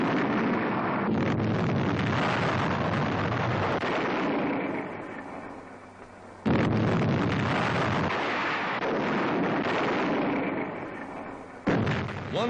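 Wartime 155 mm artillery guns firing on the Italian front in 1943, heavy rumbling blasts in dense, noisy old newsreel sound, one sustained roar broken by abrupt cuts and renewed booms.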